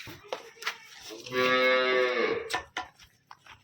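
A young Gir heifer calf gives one drawn-out, close moo in the middle, framed by a few short thuds and rustles in an otherwise quiet barn.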